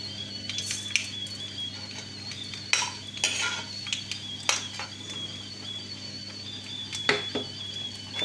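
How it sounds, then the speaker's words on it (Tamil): Mustard seeds and urad dal spluttering in two tablespoons of hot sesame oil, a scatter of sharp crackles and pops over a low steady hum, with a few louder bursts standing out. "கடுகு பொரிஞ்சு வருது."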